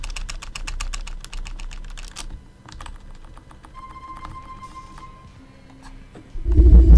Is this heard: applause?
no